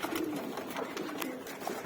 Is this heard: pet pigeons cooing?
yes